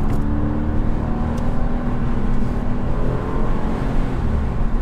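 Mercedes C63 AMG engine revving hard during a downshift, a loud, continuous throaty roar heard from inside the car with no talk over it.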